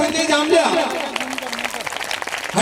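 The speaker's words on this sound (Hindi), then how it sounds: "जोरदार तालियां आपकी बजती रहे, रुकना नहीं चाहिए" Audience applause fills a school annual function, a steady wash of clapping that carries on while a voice talks loudly over it.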